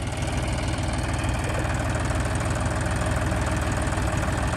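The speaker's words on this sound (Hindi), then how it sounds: "ट्रैक्टर स्टार्ट करेंगे" A John Deere 5050D tractor engine runs steadily nearby, a loud low chugging rumble with a constant rhythmic knock and no voices.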